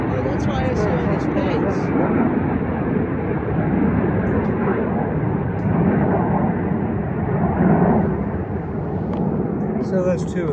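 Airplanes flying overhead near an airport make a broad, steady roar that swells slightly and then eases off, a sustained rumble running under nearby talk.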